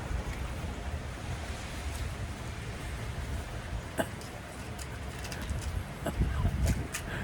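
Steady wind buffets outdoors in a continuous rushing roar, with faint bird calls and occasional light knocks.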